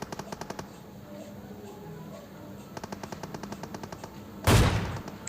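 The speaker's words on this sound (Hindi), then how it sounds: "मैं यहाँ पे बॉडी शॉट लेने की कोशिश करता हूँ, लेकिन लगता नहीं है" Rapid automatic gunfire from the battle royale game PUBG Mobile rattles in quick, evenly spaced bursts, then one louder, heavier shot booms near the end.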